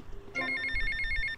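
A phone rings in GTA: Vice City, a bright electronic ringtone that kicks in after a brief quiet moment and repeats in quick rhythmic pulses, loud and close, with no talking over it.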